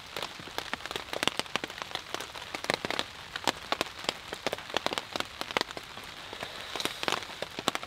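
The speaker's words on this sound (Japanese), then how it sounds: "とまあ今日もね雨なんですが" Steady rain patters outdoors at a bushcraft camp, a dense continuous hiss broken by frequent sharp drips and taps on nearby surfaces, with no voices.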